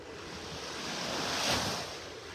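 Ocean surf rolls onto a beach in North Naples, Florida, a steady wash of breaking waves that swells briefly and then eases, with some wind noise over the microphone and no voices.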